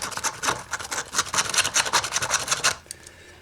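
A razor knife scraping crusty, hardened glue off the dust cap of a Paradigm 9SE speaker during restoration. A close, continuous raspy scratching with quick repeated strokes lasts nearly three seconds, then stops.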